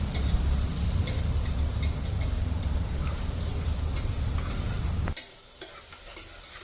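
A spoon stirs rice bath in a frying pan over steady sizzling, with scraping strokes and light ticks. The frying hiss cuts out near the end, leaving a few faint clicks.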